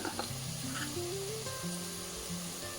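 Cumin and coriander powder sizzling in a pan while soya rice is sautéed, a steady close hiss of frying under faint background music tones.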